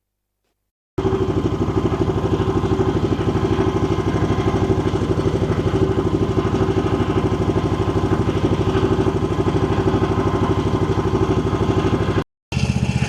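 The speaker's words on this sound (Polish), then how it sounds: "Pierwszy raz używamy traktorka, kosiarki jako pługa" A lawn tractor mower engine runs steadily while pressed into service as a snow plough in winter, a close, loud, even chugging drone that starts abruptly and holds throughout, with a brief dropout near the end.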